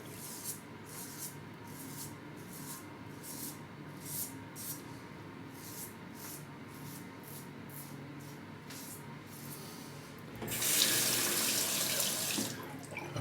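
A bathroom tap runs while a Parker 56R safety razor is rinsed during a shave with a Proraso travel kit, a soft steady trickle with faint taps, then a louder gush of water near the end.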